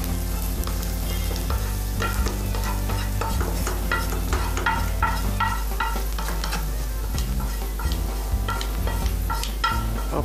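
Onions sauté in a pan with a steady, close sizzle. Repeated scraping stir strokes run through it, and a low, constant hum sits underneath, with no speech.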